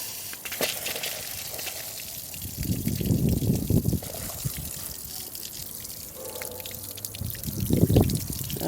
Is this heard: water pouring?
yes